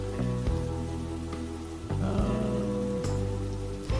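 Steady rain falls outside a nightclub in a video game, a constant moderate wash of patter with low music-like tones and a few brief thumps running underneath, no voices.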